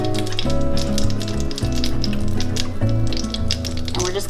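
Olive oil and butter bubble in a hot skillet, a steady close sizzle and crackle that holds at an even level throughout, with a low hum running underneath.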